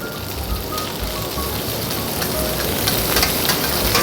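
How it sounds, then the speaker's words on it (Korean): Vegetables dropped into a hot frying pan with about two spoons of cooking oil fry with a loud, steady sizzle like hissing rain that grows slightly toward the end. "프라이팬이 조금 달궈졌으면 그냥 야채를 다 넣어주세요"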